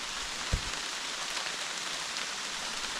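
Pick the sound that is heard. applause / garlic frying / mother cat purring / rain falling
rain falling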